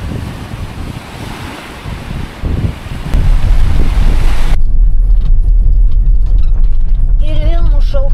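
Sea surf and strong wind on the shore at Krynica Morska roar steadily, with heavy wind buffeting the microphone growing louder partway through.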